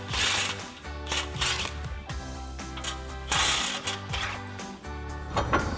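Ratchet clicking in quick repeated bursts as a torsion unloading tool is backed off a Chevy Silverado 2500 torsion bar, close and mechanical, with short pauses between runs of clicks and no talk.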